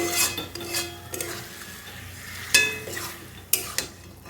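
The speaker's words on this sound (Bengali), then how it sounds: "এবার লো ফ্লেমে কিন্তু আমি চিকেনটাকে একটু ভালোভাবে কষিয়ে নেবো।" Marinated chicken being sautéed for chicken rezala in a pan over a low flame, with a soft sizzle under repeated scraping and clinking stirs of a spatula against the pan.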